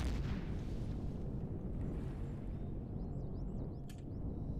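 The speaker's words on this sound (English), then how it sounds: "It's a missile launcher." In the space survival game Empyrion, a missile launcher fires and its rounds explode as a heavy, continuous low rumble, with faint warbling electronic tones briefly above it near the end.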